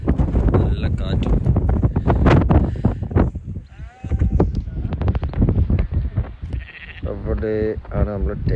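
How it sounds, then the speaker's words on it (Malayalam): Strong wind gusts across a hilltop peak, buffeting the microphone in rough bursts underneath close, continuous talking. "നല്ല കാറ്റും."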